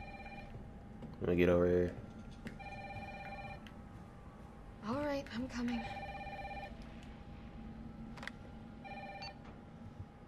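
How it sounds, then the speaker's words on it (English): A phone rings inside the Resident Evil 3 video game, with repeated electronic ring bursts sounding in short patterns over game music, while someone talks over it. "My phone's ringing."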